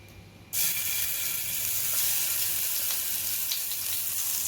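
Sliced radish hits hot oil and bursts into a loud, continuous sizzle that holds steady and close for several seconds as the pieces are turned over in the pan.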